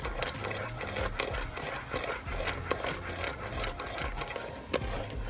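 Spoon stirring a thick Cuban milk fudge mixture in a pot, a continuous close scraping and rubbing with a steady churning rhythm, no voices.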